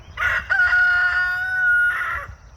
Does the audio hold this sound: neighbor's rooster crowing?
yes